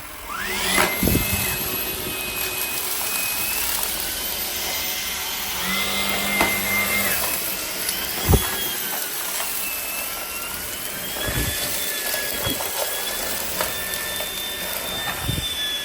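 A Shark cordless PowerDetect vacuum cleaner (IP3251UKT) runs steadily on carpet as it is pulled back, a continuous motor whine with a high tone that shifts in pitch, plus a few brief knocks and clicks from the machine.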